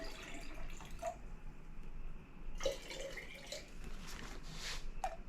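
Soft water sounds with occasional small drips and splashes as sweet potato slips are set into a container of water, over a low steady background hiss.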